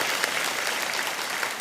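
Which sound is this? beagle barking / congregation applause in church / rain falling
congregation applause in church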